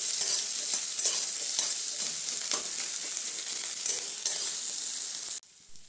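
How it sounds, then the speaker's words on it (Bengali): Onion sizzles steadily in a pan while being stirred for a snake gourd kofta curry, a dense close frying hiss with light scraping taps, cutting off abruptly near the end. "পেঁয়াজটা একটু নেড়ে নেবো, কিন্তু একদম লাল লাল করে হবে না, অল্প নেড়ে নেবো।"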